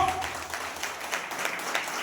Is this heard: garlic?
no